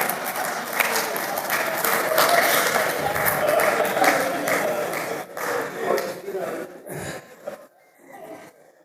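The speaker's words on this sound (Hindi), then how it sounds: "जितनी तालियां इस बात पे बजी है" A crowd applauds at a poetry show, with loud, dense clapping that thins out and fades over the last few seconds into a few scattered claps.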